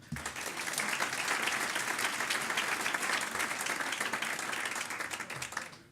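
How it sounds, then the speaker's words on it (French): A hall of nearly 400 people at an evening political gathering applauds Claude Ferrand, a dense, steady burst of clapping that swells quickly and tapers off at the close. "Merci Claude, on peut l'applaudir."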